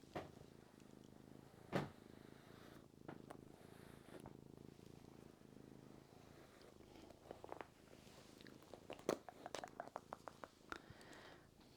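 Faint, close purring from a pet cat during brushing. A low, steady rhythmic rumble is broken by occasional soft brushing strokes and rustles.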